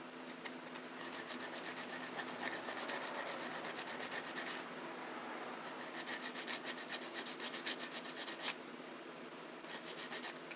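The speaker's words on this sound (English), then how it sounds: "I'm going to do a little more sanding on this side" Steady rhythmic sanding inside a Sony TC-KA1esa cassette deck, a dry rasping scrub repeated in quick strokes, pausing briefly twice before resuming, close and fairly quiet with no talking.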